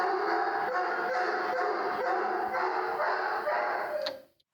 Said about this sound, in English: there's the neighbor's dog upstairs. As soon as they go out, it just barks all day.